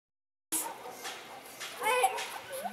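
A dog barks and yips a few times, close and moderately loud, after a moment of silence, mixed with some whining.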